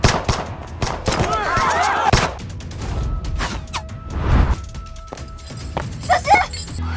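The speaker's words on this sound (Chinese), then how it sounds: "我来教你开枪，脚站开，肩打平。" Gunshots fired during a period drama scene about shooting practice, several sharp cracks and impacts in quick succession, mixed with clattering movement and scene background sounds.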